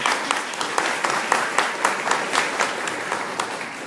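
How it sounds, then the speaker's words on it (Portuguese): An audience at a university round-table event claps for a few seconds, a moderate, scattered applause with individual claps standing out and no speech over it. "Palmas"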